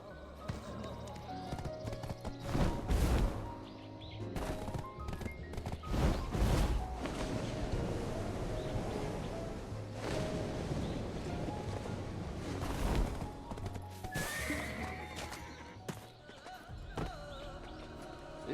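Horse in the Black Desert Online video game, hooves clip-clopping in a loose galloping rhythm with heavier thuds and a brief whinny, fairly loud over game music and ambient effects.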